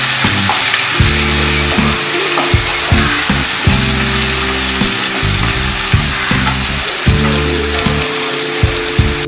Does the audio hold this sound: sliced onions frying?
yes